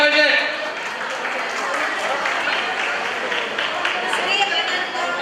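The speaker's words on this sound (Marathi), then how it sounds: "जरा टाळ्या झाल्या पाहिजे." An audience at a community felicitation gathering claps in sustained applause, a dense continuous patter of many hands close by, fading slightly after the opening swell.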